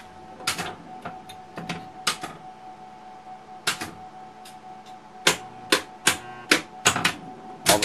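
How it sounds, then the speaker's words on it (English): Solenoids in a Baby Pac-Man pinball machine fire one after another during a solenoid test, sharp loud mechanical clacks in irregular bursts over a low electrical hum, no talk. "All the solenoids are working."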